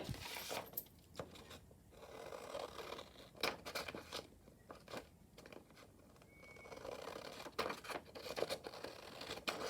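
Quiet, irregular scissor snips and crisp paper rustles at close range as paper is trimmed for a journal cover, with short pauses between cuts.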